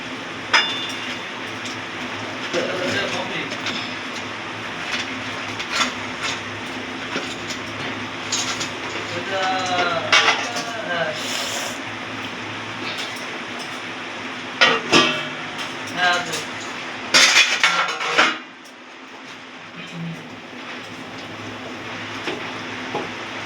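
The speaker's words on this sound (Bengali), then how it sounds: "এবার একে একে পকোড়াগুলো দিয়ে দেবো।" Fried chicken pakoras go one at a time into a thickened chili chicken gravy in a pan, producing repeated clatters, splashes and sizzling bursts, with a quieter tail at the end.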